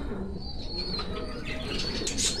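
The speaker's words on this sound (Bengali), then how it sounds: "কালদম এবং সাদা মদ্দা জাতের কবুতর।" Kaldam and white male pigeons at a high-flying loft cooing softly, with light chirps and a flutter of wings, fairly close and moderately quiet.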